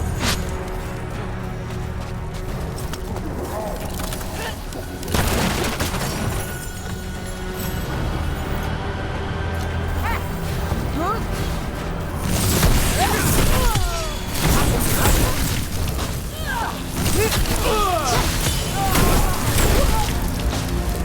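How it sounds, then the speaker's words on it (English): Combat in Dragon Age: The Veilguard with mortar fire, heavy booms and crashes recurring amid game music and effects, louder in the second half, with talk in between. "They've got mortars."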